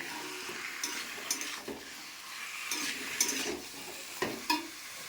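Chicken sizzles softly in a pan while a utensil stirs it, giving a low, even frying hiss broken by occasional scraping and clinking strokes, fairly quiet and close.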